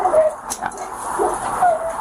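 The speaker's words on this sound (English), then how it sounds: "there's a ton of barking going on in the garage" Dogs in a garage during a raid on an animal rescue, giving high whimpers and short yips that carry from nearby, with a person's voice faintly mixed in.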